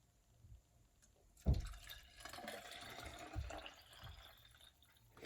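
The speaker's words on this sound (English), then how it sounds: "Taking the water with you, as you can see it on my video, and then pour the water inside your container." Water poured from a bottle into a small container: a soft start, then a sudden splash and a steady trickling fill that runs on for several seconds, with no voices.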